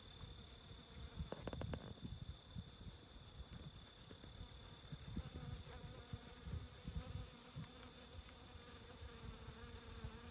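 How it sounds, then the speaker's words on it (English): Honeybees working corn tassels in a deer food plot outdoors, a faint continuous buzzing hum with occasional closer passes, set against a steady high insect drone in the background. "Honeybees loving the corn tassels."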